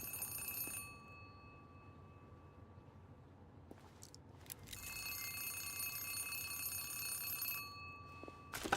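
A telephone rings in the video game Zero Parades with an electronic bell-like tone. It sounds in bursts separated by pauses, fairly quiet over low background ambience.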